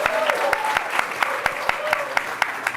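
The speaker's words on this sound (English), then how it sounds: "Let's give them a round of applause." Audience clapping at a startup demo day, heard as a steady wash of applause with sharp regular percussive hits and a faint tonal element running underneath.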